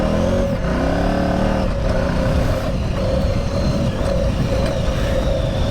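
A KTM 950 Super Enduro motorcycle engine roars steadily and loudly throughout, with a sustained rumbling drone and slight shifts in pitch as it revs.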